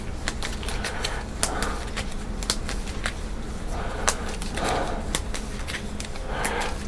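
A deck of NPC cards for a board game is shuffled by hand close up, with a dense flurry of rapid papery riffling and clicks over steady room noise, and no speech.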